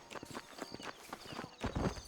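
Horse hooves clip-clop in the video game Red Dead Redemption, a faint, steady trotting rhythm of soft thuds that swells briefly louder near the end.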